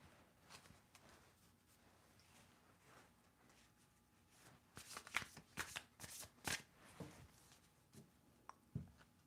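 Several quick bursts of tarot cards being shuffled, crisp riffling clustered in the middle, with softer handling rustles before and after.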